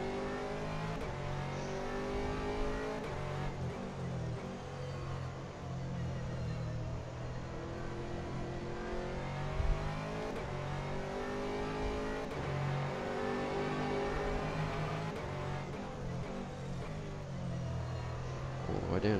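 A GT3 race car at the Paul Ricard circuit, engine droning and climbing through the revs as it accelerates, easing off and pulling again, heard steadily throughout with the driver talking over it.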